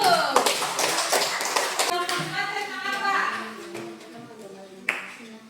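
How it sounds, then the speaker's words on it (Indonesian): Pupils in an elementary school classroom break into brisk hand clapping, a burst of close, sharp claps that fades while children's voices and talk continue over it. "Bagus sekali, tepuk tangan dulu."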